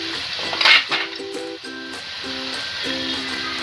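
Chicken and curry spices (chilli, cumin and coriander powder) sautéed together in a pan, a steady sizzle with a louder burst early on, while a light melodic tune plays over it.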